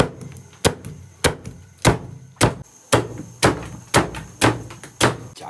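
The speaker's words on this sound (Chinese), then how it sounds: "准备俩玉米，剁一下。" Two corn cobs are chopped with a cleaver on a kitchen board, giving about ten sharp, evenly spaced thunks close by, each ringing briefly.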